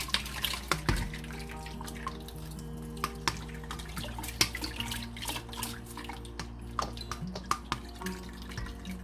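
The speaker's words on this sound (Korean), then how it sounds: "그리고 다시 물을 빼겠습니다" Water being drained from a large batch of young radish water kimchi made with apple, with steady dripping and trickling into a colander, close and continuous with scattered sharp drips.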